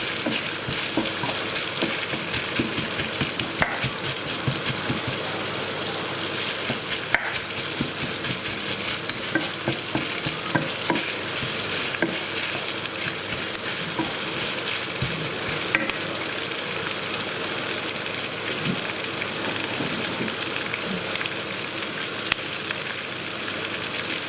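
Roughly chopped onions sizzling and frying in a pan for a Punjabi chicken wing curry, with steady close crackling and occasional stirring scrapes throughout, no talking.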